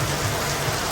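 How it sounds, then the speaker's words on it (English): Steady rain falls on a street, a dense even hiss of drops on pavement heard alone and close. "Alright, guys, so we're stuck in the rain right now."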